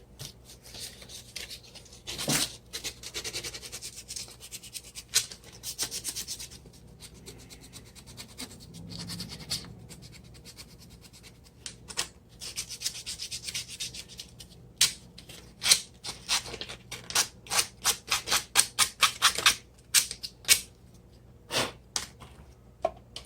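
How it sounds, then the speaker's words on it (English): Sandpaper rubs and scratches inside a 3D printed Ghostbusters ghost trap part, quiet and close, with irregular strokes that grow quicker and sharper into a rapid burst of short scrapes. "I'm going to go in there and kind of sand around the inside of this and get it to fit a little bit looser"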